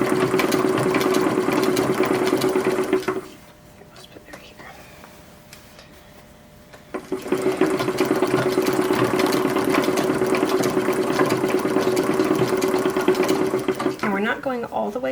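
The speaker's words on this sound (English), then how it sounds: "we'll be sewing right down the center of the blue" Sewing machine running steadily while stitching blue fabric for an 1880s sunbonnet, a loud continuous mechanical hum with a clear pause of a few seconds midway before it starts up again.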